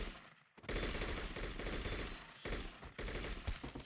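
Sustained automatic gunfire from a firefight in the video game True Crime: New York City, loud dense bursts nearly continuous with brief gaps, close and alone.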